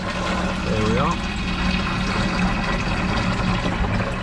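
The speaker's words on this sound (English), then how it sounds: "Put your money in, press the green button, and the water starts to pour." Water pouring from a coin-operated mountain-water vending machine in Cyprus into a large 19-litre bottle, a loud continuous rushing stream with pump hum, close by, briefly joined by a short whine.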